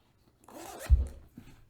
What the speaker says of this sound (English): Is it this zipper?